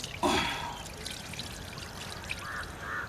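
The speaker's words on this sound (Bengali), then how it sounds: "চিকেন ধোয়া" Water poured over raw chicken to wash it for tandoori at a night campsite, a short loud splashing pour followed by quieter trickles and drips outdoors.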